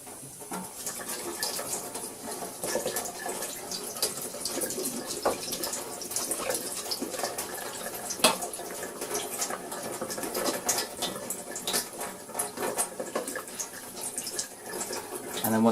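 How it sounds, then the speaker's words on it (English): A Dyson V6 DC59 cordless vacuum part is rinsed under warm running tap water, a close, steady splashing stream with small spattering shifts as the piece is turned, with no talking over it. "Again, just rinse it under warm water."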